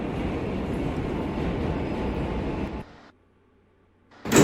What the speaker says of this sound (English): it will play B train sound effects when we reach the stopper